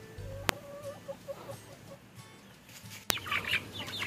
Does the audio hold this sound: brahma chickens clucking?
yes